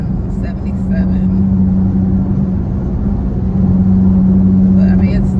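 A V6 Dodge Charger's exhaust drones with a steady low rumble while accelerating on the road, the note rising slightly near the end, heard from inside the car without talking.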